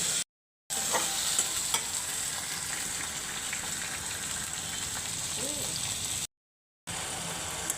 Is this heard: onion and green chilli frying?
yes